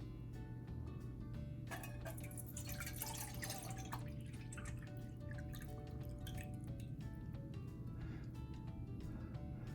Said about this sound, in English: I'm going to pour the water in.